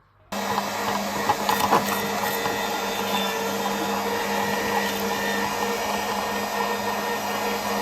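An electric meat grinder mincing eggplant hums steadily and loudly, a constant mechanical drone with a few clunks near the start.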